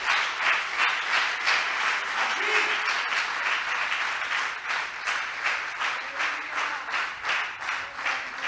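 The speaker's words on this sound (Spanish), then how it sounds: "Dale un aplauso al Señor" A church congregation applauds for the Lord during a Spanish-language sermon, steady dense clapping that pulses through the whole stretch, moderately loud and unbroken.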